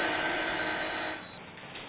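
Office telephones in 1968 Italy ring with a continuous electric bell that cuts off just before the end, loud and close.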